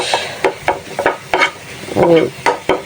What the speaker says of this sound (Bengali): ডালটা বাগার দিয়ে তারপর